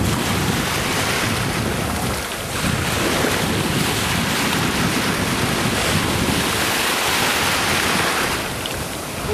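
Sea waves wash against the shore in a steady, loud roar of surf, heavily mixed with wind buffeting the microphone, continuous throughout with a brief dip near the middle and no talk.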